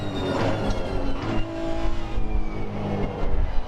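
Honda race car engine in Assetto Corsa Competizione at Kyalami, a loud, continuous high-revving VTEC wail with shifting pitch as the car accelerates through gears, close and dominant throughout.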